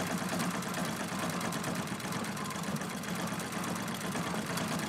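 A sewing machine stitches circles while quilting a peacock feather design, making a steady, fast mechanical whir and patter that runs through the whole stretch at a moderate level, alone.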